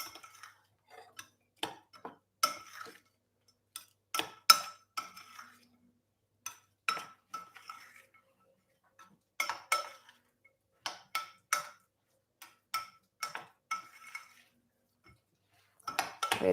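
Wet ingredients are stirred into dry ones for grain-free, dairy-free chocolate chip cookie dough: a spoon clinks and taps against a bowl in irregular bursts of bright knocks, close and fairly quiet, with short pauses between strokes and no talking.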